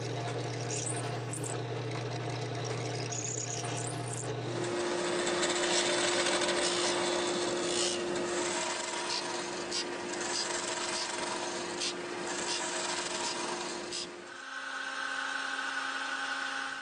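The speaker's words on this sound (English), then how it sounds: "I put the blocks down here to drill through them" A steady whining drill grinds continuously through wooden blocks, its pitch shifting partway through, with rough rubbing noise underneath.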